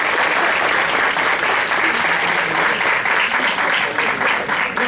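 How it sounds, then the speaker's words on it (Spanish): Sustained, dense applause from an audience at a psychology conference, loud and steady throughout with no pause. "Un aplauso para los participantes."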